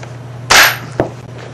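Metallic snap of a chambered round ejecting from an M48 rifle action, one sharp bright burst followed by a smaller click, close and alone.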